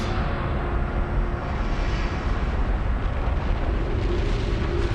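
Volcanic eruption hurling lava thousands of meters into the air, a continuous deep roaring rumble, loud and steady throughout with no voices.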